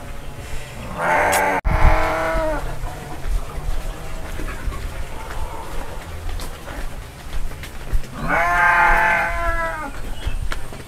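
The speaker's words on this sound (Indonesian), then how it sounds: "Ih, ada domba" Sheep bleating near a house in a rural Indonesian village amid green rice fields, two clear bursts of wavering bleats, one early and one near the end, over steady outdoor background noise.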